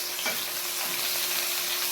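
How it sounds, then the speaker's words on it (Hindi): A sliced onion fries in oil already used for frying, giving a continuous bright sizzle with a faint stir near the start. "जिस पे हमने फ्राई की थी उसी ऑयल के अंदर हमने एक प्याज"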